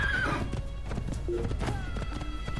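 A horse gallops in the Assassin's Creed video game, with quick rhythmic hoofbeats and several sharp whinnies over a constant background.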